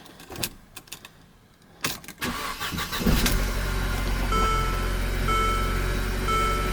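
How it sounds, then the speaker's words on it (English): Keys jingle and clink, then a Mercedes SLK 250's engine cranks and catches after a coil replacement, settling into a steady idle hum with faint chiming tones. "let's just start the car"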